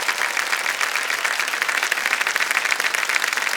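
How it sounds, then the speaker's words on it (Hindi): Studio audience applause on the KBC quiz show, a continuous dense roar of many hands clapping at a steady level throughout, with no voices on top. "मीरा जी तालियां कुछ कम हो गई है,"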